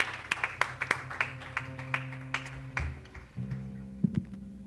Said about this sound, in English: Let us hand clap. Let us cheer for those who have given their life to Christ today.